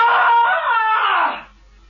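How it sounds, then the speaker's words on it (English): A woman lets out a loud, sustained blood-curdling scream lasting over a second, shrill and wavering, before it cuts off into quiet. "I'll give you a real blood curdler"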